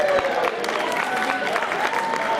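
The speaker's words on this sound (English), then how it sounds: "I want to start with a nice round of applause for Mr." Audience applause at a Monkees fan convention's historians panel: dense, steady clapping from a packed room that fills the whole stretch at an even level, with a few faint shouts mixed in.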